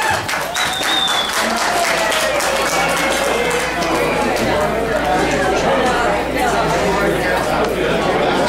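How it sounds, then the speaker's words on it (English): Loud, sustained applause from a wedding sangeet crowd fills the room, with cheering and chatter mixed in throughout. "Give a round of applause."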